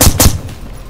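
A big rifle going off in the survival game DayZ: two loud, sharp gunshots close together at the start of the clip, then a fading echoing tail.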